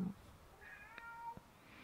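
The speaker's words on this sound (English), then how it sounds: "Jack, my cat" A house cat meows once, a faint drawn-out indoor cry with a rising then falling pitch, heard alone in a quiet room.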